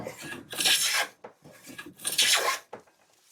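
Vintage hand plane pushed along wood, taking shavings in two long rasping strokes with short scrapes between, close and loud.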